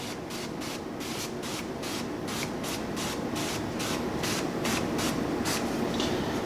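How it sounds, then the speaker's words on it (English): A rapid series of short cooking spray bursts, about a dozen quick hisses in irregular rhythm over a steady sizzling background, spraying chicken thighs while searing. "we have to use our cooking spray"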